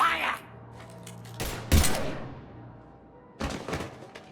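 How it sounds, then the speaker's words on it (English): Gunfire in the video game Mass Effect 3: two separate bursts of loud, close shots, the first around the middle and the second near the end, with quieter game noise between them. "Now open fire!"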